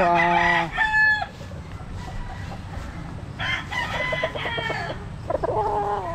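Young roosters crow and cluck nearby, a loud crow opening the scene, then further crows and clucks overlapping across a farm setting with steady background noise.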